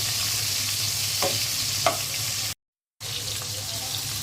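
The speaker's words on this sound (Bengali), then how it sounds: "আইল মাছ ভাজা হতে হতে আমি তেল দিয়ে দিচ্ছি" Steady, dense sizzle of hail fish (aair) frying in hot oil, close by, cutting out to brief silence before hissing on again.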